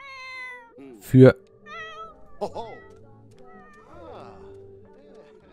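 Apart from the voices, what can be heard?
cat meowing in the video game The Sims 4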